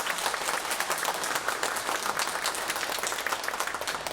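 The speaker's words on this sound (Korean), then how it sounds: "너무 감사한데 박수 한번 해주시겠습니까?" A church congregation claps steadily in dense, continuous applause filling a room, with no pauses.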